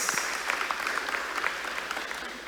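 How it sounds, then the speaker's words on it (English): A congregation at a church quadrennial session applauds, a dense continuous patter of many hands clapping across a big room, moderately distant and steady throughout. "Let's applaud the elders"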